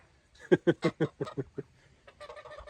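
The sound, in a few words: geese on a farm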